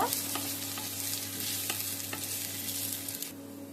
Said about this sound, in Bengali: ডুমো ডুমো করে কেটে রাখা মিডিয়াম সাইজ একটা আলু দিয়ে দিলাম একটু নাড়াচাড়া করে ভাজা ভাজা করে নেব